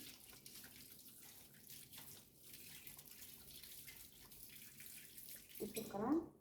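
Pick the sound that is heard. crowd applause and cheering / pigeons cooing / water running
water running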